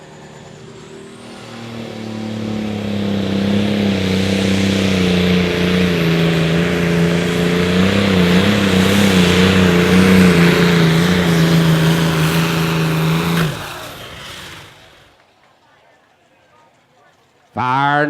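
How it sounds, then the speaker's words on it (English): A Limited Pro Stock pulling tractor at a Rock Valley Friday night outlaw pull roars under heavy load, the engine note building and holding loud for about twelve seconds before cutting off, with a brief burst returning at the end. "This is the first pull for this tractor."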